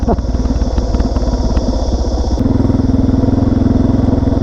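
A motorcycle rides a dirt track with sand, its engine loud and close throughout, shifting to a steadier, deeper throbbing rhythm partway through.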